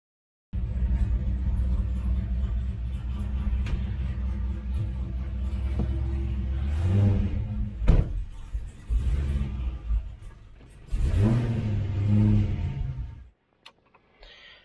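A Pontiac GTO fitted with a big-cam LS V8 rumbles as it drives, a loud and steady low drone that swells twice in revving surges, with a brief clunk midway, then cuts off.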